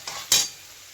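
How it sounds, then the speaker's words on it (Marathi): Boiled bharangi greens are stirred in a pan with two quick scrapes and a brief sizzle, the second louder, then quiet. "ह्यात थोडी थोडी घालून परत हे ढवळलं जाणार"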